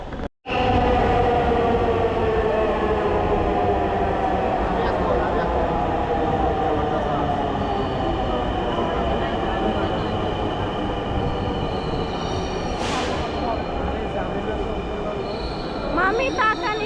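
A metro rail train running at speed, heard from inside a car with a loud continuous rumble and rattle of wheels on track, faint squeals rising near the end, and voices in the background.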